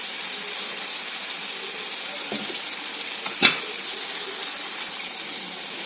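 Mutton curry fries with chilli powder in a pan as a steady, close, hissing sizzle, with a brief clink of a spoon or pan partway through and no voices.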